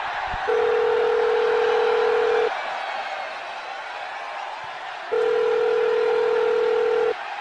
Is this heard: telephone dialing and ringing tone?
yes